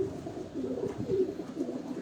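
High-flying pigeons coo softly in a rooftop breeding loft, a low murmuring burble that is faint and close, with no voices.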